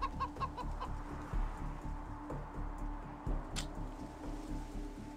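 Chicken clucking in the post-apocalyptic game Wasteland 3, a steady run of short, busy clucks and squawks close by over a low background rumble, with no talking.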